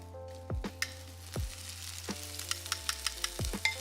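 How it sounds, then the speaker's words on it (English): Celery and peppers sauté in a hot pan at a cooking demonstration, a steady close sizzle with occasional scraping stirs and small pops, along with a low background hum. "In my pan, saute this up."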